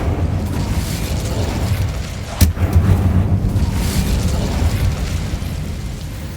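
The Incendio fire spell in the video game Hogwarts Legacy gives a continuous roaring, crackling rush of flame with one sharp burst partway through, loud and close.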